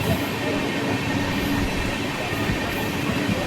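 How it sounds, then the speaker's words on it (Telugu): Devagiri Express passing Talamatla railway station, a steady rolling rumble and rhythmic wheel clatter heard from inside the moving train. "తలమట్ల రైల్వే స్టేషన్ అయితే క్రాస్ చేస్తున్నాం మనము."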